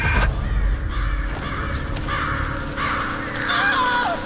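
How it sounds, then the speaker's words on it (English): Crows cawing in the Metal Gear Solid 4 video game, several harsh caws spread across the scene over a rumbling game background, fairly close, without speech. "The birds."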